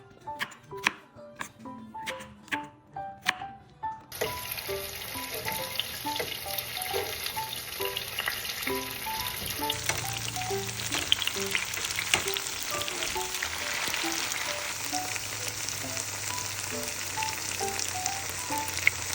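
Tofu fries in hot oil with a dense, steady sizzle close by, preceded by several sharp knocks and clatters of utensils, with louder crackling bursts as pieces settle into the pan.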